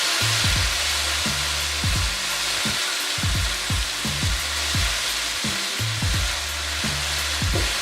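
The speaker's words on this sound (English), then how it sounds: "While that's sauteing" Shrimp sautéing in a pan for grilled shrimp scampi, a steady close sizzle with repeated stirring scrapes and pops at a regular rhythm, with no talk over it.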